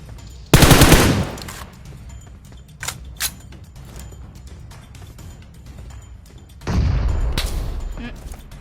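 Gunfire in the video game PUBG Mobile: two loud bursts of rapid automatic fire at the start and near the end, with scattered single shots and mechanical clicks in between.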